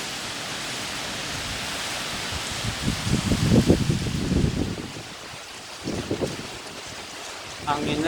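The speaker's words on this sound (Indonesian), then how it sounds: "Anginnya gede banget, bro." Strong storm wind in Yogyakarta roars and buffets the microphone, swelling into heavy gusts midway before easing, with a faint voice briefly underneath.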